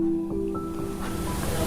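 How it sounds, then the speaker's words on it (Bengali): Spices sizzling and frying in a pan for mochar ghonto, a Bengali banana-flower dish, with a steady close sizzle and soft stirring scrapes, no talking. "খুব ভালো করে মশলাগুলো ভাজবো যতক্ষণ না কাঁচা গন্ধ যাচ্ছে।"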